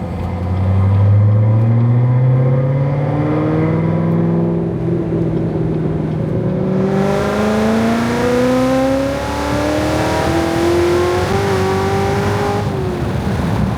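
A Chevrolet Corvette C7 Z06 accelerates hard on the street, its engine note climbing loud and close through successive gears with rising revs, a brief shift break and a longer second pull.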